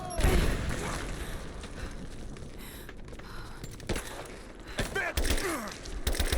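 Gunfire erupts in a Rise of the Tomb Raider firefight, with a series of sharp, uneven shots and booms over a constant noisy battle background, and voices faintly present.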